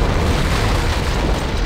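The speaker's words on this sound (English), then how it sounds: "I'd guess an antimatter charge" Antimatter charge exploding aboard a ship in the Halo video game, a loud, deep, sustained boom with a dense low rumble filling the whole moment and no voices.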